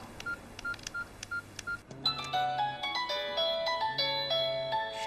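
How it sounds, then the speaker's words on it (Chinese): A mobile phone rings from inside a desk drawer, first with a few short repeated electronic beeps, then a brighter melodic ringtone of quick tonal notes that plays on steadily, moderately quiet with no talking. "谁手机响啊？"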